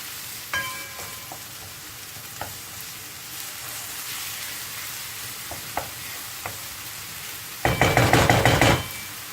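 Onions simmering and frying in a pan for homemade tacos, a steady close sizzle with a few utensil knocks against the pan, then a louder burst of stirring and crackling near the end.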